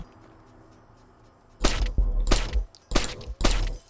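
Four pistol shots in the Splinter Cell video game come in quick succession after a quiet stretch, each a punchy, close crack with a thudding low end.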